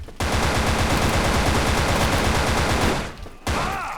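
Sustained automatic gunfire in the video game Wolf Team, a rapid rattling burst of shots lasting about three seconds, then a brief pause before another burst starts, loud and close, no talk.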